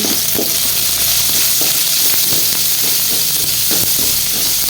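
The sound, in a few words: pea shoot greens with chillies stir-fried in a pan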